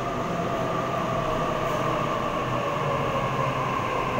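A train arrives at a station platform at Wynyard, rumbling steadily, a constant loud drone of wheels and motors with a faint hum on top, no voices.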